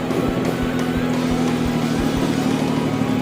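An ATV engine drones steadily at close range along a forest trail near Pattaya, a constant low hum with rhythmic thumps and a rough, continuous rumble.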